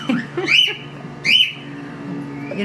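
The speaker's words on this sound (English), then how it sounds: "stop and watch the parrots" Parrots give two loud, close squawking calls about a second apart, each a bright rising shriek, with quiet background between them.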